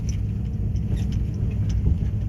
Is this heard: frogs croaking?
no